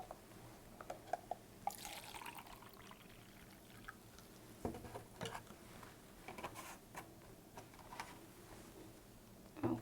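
Vinegar, or acetic acid, trickles and drips into a cup in a kitchen science setup, with a soft, uneven pouring splash near the microphone and a few small clinks and knocks.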